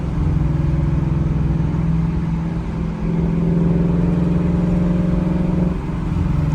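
A 2024 Ford Mustang GT running on E85 fuel, its engine droning loud and steady from inside the car with a deep, even tone.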